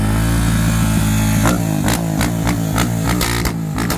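Close engine of a fuel-injected Honda Twister motorcycle with an 80 mm piston revving hard, a loud steady drone broken by a rapid series of sharp throttle blips and pops.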